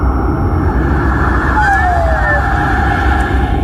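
A fast radio burst signal converted to sound: a pair of thin, descending whistling chirps sweep down across the middle of the clip over a steady, loud hiss of background noise.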